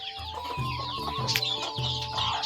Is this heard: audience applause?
no